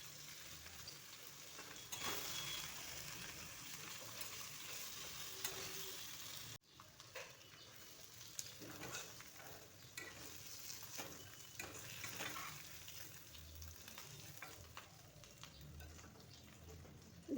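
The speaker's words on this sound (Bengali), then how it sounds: "দেখুন এইরকম হালকা ফ্রাই করতে হবে।" Singi fish dusted with turmeric and salt frying lightly in oil, giving a quiet, steady sizzle with occasional soft stirring and clinking, heard close and faint throughout.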